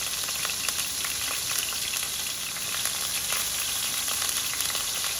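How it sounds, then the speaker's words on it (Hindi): Chicken pieces with paprika, black pepper, ginger-garlic paste and salt sizzle and fry steadily in hot oil in a kadai, a dense continuous crackle close up with no talking. "अब इसको बहुत ही अच्छे से इसको इसी ऑयल में फ्राई करना है गोल्डन होने तक"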